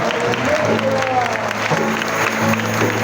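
A congregation at a Catholic charismatic renewal gathering claps together, a dense sustained burst of applause that stays loud for a few seconds.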